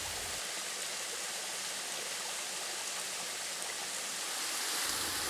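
A creek waterfall in a canyon at Moko Creek, Kanangra, pours in a steady, loud broadband rush of falling water close by, unbroken throughout with no voices.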